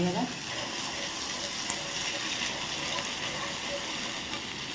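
Coconut paste with ginger and shallot paste frying in a pan gives a steady, dense sizzle that runs unbroken from start to finish at a fairly even level.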